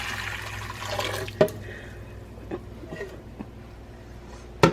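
Boiling water is poured into a mixing bowl while making maple oatmeal bread, giving a soft continuous splashing and gurgling stream with a few sharp clinks and knocks, near and moderately quiet.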